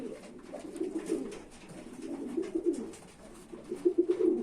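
Homing pigeons coo in a loft, soft low rolling calls repeating in short bursts, close and fairly quiet, with several birds overlapping toward the end.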